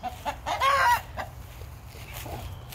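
A rooster clucking close by in a yard, a short burst of squawky, rising calls followed by quieter scattered clucks over low background rumble.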